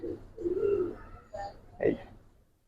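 Pigeons on a farm give a few soft, low coos in quick succession, near and fairly quiet. The birds are inbred Giribaz and coloured fancy breeds.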